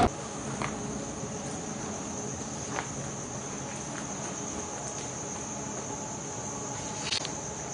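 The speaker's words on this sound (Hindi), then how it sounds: "सजाद देख के वो छत्ता लगा हुआ कहाँ है साइड पे किधर ये आपके सर के पास" A steady insect drone hangs throughout, a continuous buzzing like bees at a hive, with a few faint clicks and taps over it and no talking.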